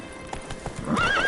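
Roach the horse in a video game gallops with a few brisk hoof clip-clops, then gives a loud, wavering whinny close by.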